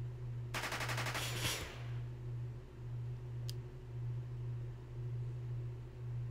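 Gunfire in the game Jagged Alliance 2 Urban Chaos 1.13: a single dense rattling burst of shots about a second long, fairly loud over a steady low hum, then quiet apart from one faint click.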